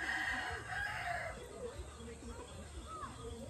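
A rooster crows on a layer chicken farm, one long call near the start, followed by scattered clucks from the flock over a steady low farmyard rumble.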